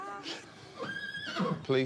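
Police horses whinny close by, short neighs rising and falling, mixed in with people talking.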